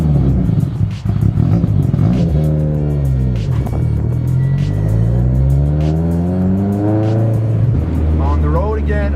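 A C7 Corvette engine revs hard through a full acceleration pull, loud and close, its pitch climbing through the gears. A voice talks over it.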